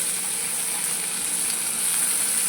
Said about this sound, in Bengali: এরপর দিয়ে দেব কয়েকটা গাজরের টুকরো, এটাকেও আমি 1 মিনিট ভেজে নেব।